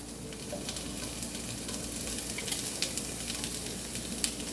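Onion sizzling in a hot skillet for a pasta dish, a steady bright crackle with small pops and occasional stirring taps, close and continuous with no talk.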